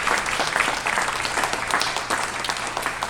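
A round of audience applause at a talk on the life and legacy of Annie Malone in Peoria, a dense, even clapping at moderate level over a faint low hum, lasting a few seconds.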